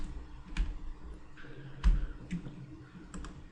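A web address is typed on a computer keyboard, with a few sparse, light key clicks spread unevenly over a low background hum.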